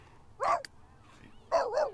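A pet dog in The Sims 3 barks twice, giving a short yelping bark and then a quick double bark, clear and close over a faint low background hum.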